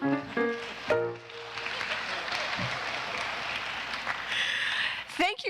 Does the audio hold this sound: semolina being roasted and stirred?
no